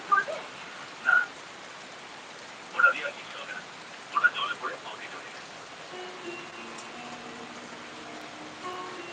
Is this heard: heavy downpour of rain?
yes